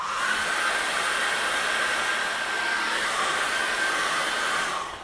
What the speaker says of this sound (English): you can run the hairdryer over it